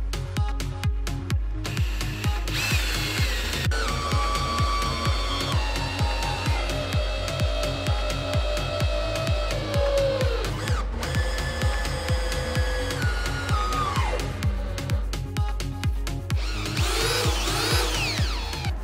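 A cordless power tool drives screws into the rail of a curved stairlift during installation, producing repeated whirring bursts with pitch sweeps and rhythmic clicking over nearly twenty seconds, close and fairly loud.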